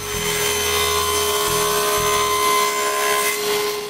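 A power saw ripping boards to width in a woodworking shop, a steady loud whining drone with a sustained tone and a few low rumbling pulses early on.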